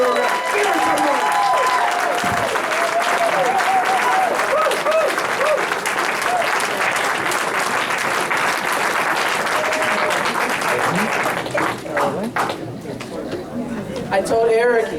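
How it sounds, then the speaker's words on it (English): Sustained applause from a large convention audience at an African American caucus meeting fills the room for about twelve seconds, loud and dense, with scattered cheers and chatter mixed in before it thins near the end. "Give her a round of applause."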